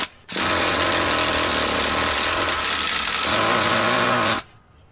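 A Traxxas Jato nitro RC truck engine fires up and runs with a loud, steady, buzzing rattle for about four seconds, then cuts off abruptly.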